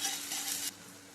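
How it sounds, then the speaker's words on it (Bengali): Onion dropped into hot oil in a pan gives a loud, hissing sizzle that cuts down abruptly to a softer, steady frying sound, close and brief. "তেলটা ভালো করে গরম করে নিলাম। এবার আমি পেঁয়াজটা দিয়ে দেবো।"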